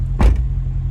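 A Corvette C8 engine idles with a steady low rumble throughout, broken briefly near the start by a short thump.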